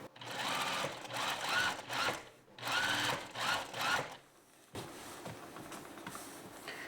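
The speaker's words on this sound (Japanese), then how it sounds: "見返し側に1ミリから1ミリ半のステッチをかけていきます" A sewing machine topstitches the facing of a high-neck vest in several close, loud bursts of rapid whirring stitching separated by brief pauses, then a quieter steady hum.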